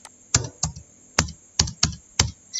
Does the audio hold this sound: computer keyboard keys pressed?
yes